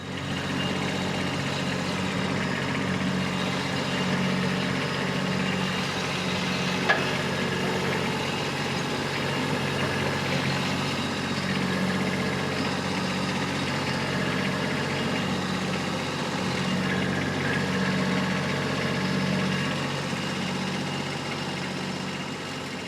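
A small tractor, about four feet wide, idles steadily outdoors on a grey day, its low engine hum and faint rhythmic throb continuing evenly with no speech.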